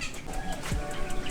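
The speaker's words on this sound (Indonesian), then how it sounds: "Ini indukan jalak Bali kita yang anak-anaknya tadi di sana" Bali myna (jalak Bali) breeding birds in a small private zoo enclosure, with close wingbeats and short calls over a busy, cluttered background.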